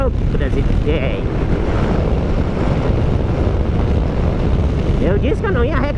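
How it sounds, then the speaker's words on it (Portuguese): Strong wind buffets the microphone outdoors at an off-road spot during a Kawasaki Z900 photo stop, a loud, constant roar that persists throughout with faint voices under it. "Eu disse que eu não ia reclamar do vento, cara, mas não precisa tanto vento assim, né?"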